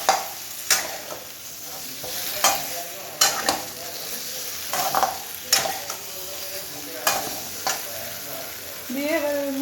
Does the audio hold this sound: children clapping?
no